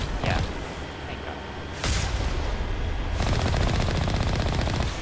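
The Mako tank's cannon fires in the Mass Effect video game, with loud booming blasts and a sustained rapid burst of gunfire over continuous game noise.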